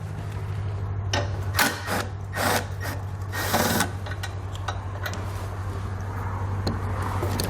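Ratcheting 10mm wrench working bolts loose under a 2017 Ford Focus, with repeated bursts of clicking and scraping at irregular intervals over a steady low hum, close by and fairly loud.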